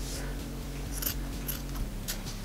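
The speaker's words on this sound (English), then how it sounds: "it's a lot easier to do this if you have really sharp scissors" Sharp scissors snip through a thick sweatshirt band, giving a series of crisp, close cutting crunches at an uneven pace over a steady low background hum, with no talking.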